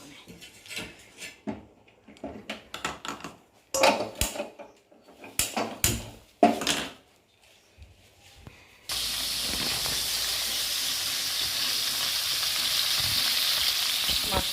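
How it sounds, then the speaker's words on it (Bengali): Fish fries in a hot wok over a gas flame: after a stretch of sporadic clicks and clatter, a loud, steady sizzling hiss sets in and continues evenly to the end. "মাছটা ভাজা হচ্ছে"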